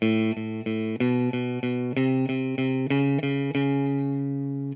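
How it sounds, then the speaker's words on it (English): Distorted electric guitar chugs a bluesy triplet rhythm, three even plucks per beat on repeated chords, close and steady. "I'm playing what's called a triplet rhythm here, and this is so common in the blues."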